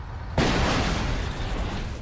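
A sudden loud, broadband blast as a Tiger tank explodes after a brief quiet moment, followed by a sustained roaring rumble that stays heavy for the rest of the clip.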